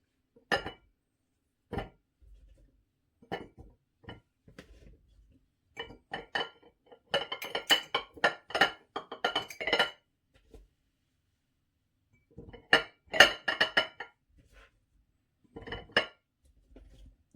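Glass jars clink and knock against each other and utensils while being filled with quinces for compote, heard as sharp, close clinks in scattered bursts with quiet gaps between, with no talk.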